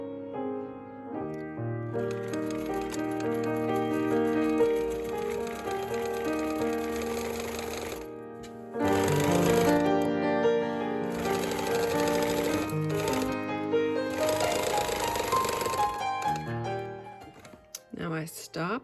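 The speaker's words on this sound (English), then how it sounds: "I'm just gonna sew a 1/4 inch in from the raw edge" A sewing machine stitches a pillowcase seam in long steady runs, pausing briefly about halfway, with a person talking over the whirring.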